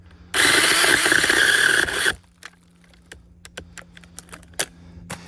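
A battery-powered RLSoo mini chainsaw cuts through a small tree limb: a loud, steady buzzing burst of under two seconds that stops abruptly, followed by scattered light clicks and rattles alone.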